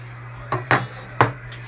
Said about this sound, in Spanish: Vamos a retirar la tapa.